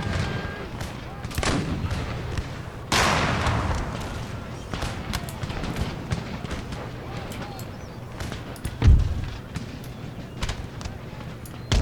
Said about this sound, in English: That artillery has given us an absolute pounding here.